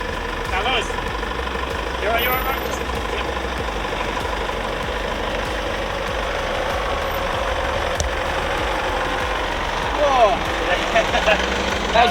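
Big, wide 4x4 vehicle engine working along a switchback bank track on the Rangitaiki in New Zealand, a steady rumbling drone running throughout, with a rise near the end, under occasional voices.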